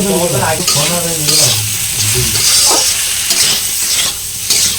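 Eggplant and potato, already fried, sautéing in a pan with salt, turmeric and chilli powder, with steady close sizzling and repeated scraping stirs throughout and no talking.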